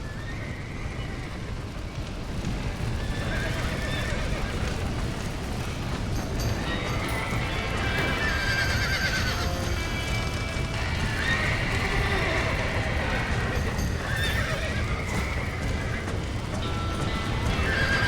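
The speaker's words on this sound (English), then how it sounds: "Somebody get them horses out!" Trapped horses neigh and whinny repeatedly while hooves clatter inside a burning barn in the Red Dead Redemption video game, a dense, continuous din mixed with roaring fire and distant shouting voices.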